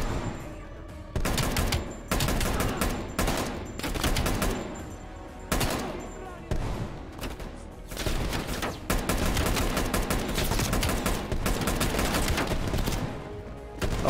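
Dense gunfire from the Call of Duty Black Ops Cold War campaign: loud, sustained automatic bursts and volleys that rattle continuously, broken by only a few brief pauses.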